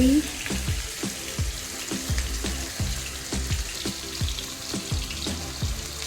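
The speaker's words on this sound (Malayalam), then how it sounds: "ഇതൊന്ന് ഫ്രൈ ആവട്ടെ" Pieces of kachil yam shallow frying in oil sizzle steadily in a pan, a close, continuous crackle with soft rhythmic pops.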